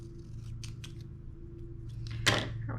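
Scissors trimming a planner sticker, heard as a few soft, close snips followed by one sharper cut, over a steady low background hum; no one speaks.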